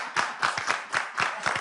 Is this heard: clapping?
yes